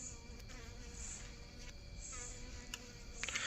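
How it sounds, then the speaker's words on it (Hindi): Bees or similar insects buzz steadily around a light at night in an old palace, a continuous close drone with no talking. "अच्छा लाइट पे मधुमक्खी आ रही है।"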